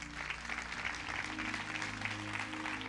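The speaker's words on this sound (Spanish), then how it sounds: "Le puede dar un aplauso a Dios por eso." A church congregation applauds together in a sustained, even round of clapping, moderately faint and heard without speech over it.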